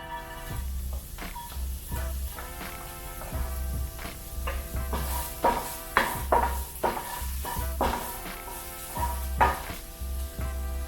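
Ginger and garlic sizzling in a pan for mapo tofu, a steady close frying hiss broken by regular stirring scrapes and spatula clicks against the pan, with no talking.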